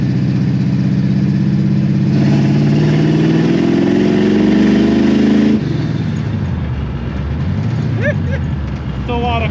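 A built Pontiac 455 V8 in a Firebird pulls at half throttle on two barrels, a deep loud rumbling drone that rises and then drops as the revs fall, heard close from inside the car.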